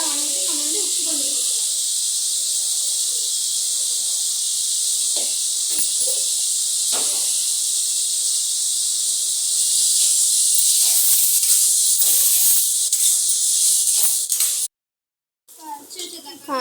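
Vegetables and grated coconut sautéing in a hot pan, a steady loud sizzle and hiss that runs throughout, with brief stirring clatter, a short cut near the end and faint speech underneath.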